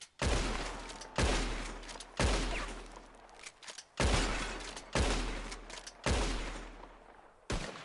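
Roughly seven loud, close gunshots fired at bottles in the video game Red Dead Redemption 2, each a sharp crack followed by a decaying echo, spaced about a second apart.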